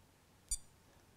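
A wristwatch stopwatch timer gives a single short, high electronic beep as it starts, quiet and alone against a faint background hiss.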